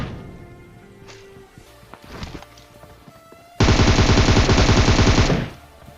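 A DP machine gun fires in a video game, one sustained loud burst of rapid automatic shots lasting about two seconds, preceded by quieter scattered game sounds and a few faint thuds.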